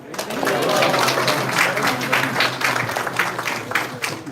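A crowd claps steadily at a children's annual day celebration, sustained applause of even density throughout.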